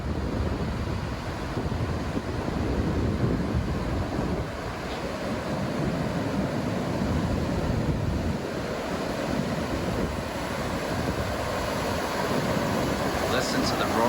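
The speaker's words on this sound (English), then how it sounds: "Listen to the roar of that water." Roaring water at a Fried Green Tomatoes filming location, a continuous loud rushing wash heavily mixed with gusting wind buffeting the microphone, with no break in the sound throughout.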